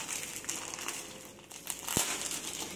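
White and transparent sublimation sticker paper is handled up close, giving a few seconds of steady crinkling and rustling with one sharp crackle near the end.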